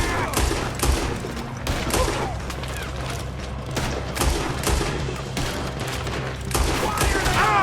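Gunfire in Red Dead Redemption 2 during a shootout, with repeated sharp shots and bursts scattered throughout over a low rumbling background, loud and close, with voices shouting at times.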